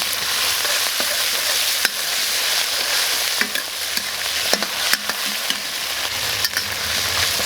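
Doubanjiang bean paste and soybean paste fry over moderate heat in a wok, giving a continuous loud, close sizzle punctuated by sharp scrapes and clacks of the spatula stirring, with no voices.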